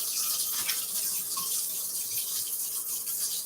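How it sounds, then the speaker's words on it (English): Tap water runs steadily into a sink while hands are washed beneath it, a continuous close hiss with faint splashing and no talk. "So you wash your hands."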